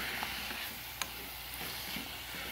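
Leftover rice with coriander and tomato sauce sautéing in a pan, a steady soft sizzle with faint stirring scrapes and an occasional light click, fairly quiet and close with no voices.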